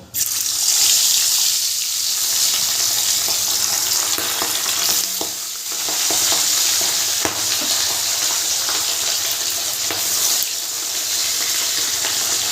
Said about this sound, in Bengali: এবার মাছগুলোকে আমি একে একে ভেজে নেব।